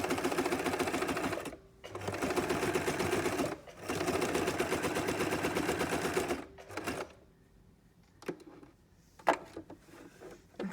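A sewing machine stitches fabric in long, fast, steady mechanical bursts separated by short pauses, then falls quiet apart from a few sharp clicks and handling taps near the end.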